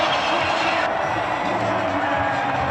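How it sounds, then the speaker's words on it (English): A basketball crowd at a 2002 NBA game between the Chicago Bulls and Washington Wizards keeps up a standing ovation, a steady wash of applause and cheering filling the arena throughout. "Standing ovation continues from this crowd."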